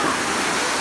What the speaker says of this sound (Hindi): तो गाइस ये वाटरफॉल थोड़ा अजीब है, इसमें पूरे 3 स्टेप्स है।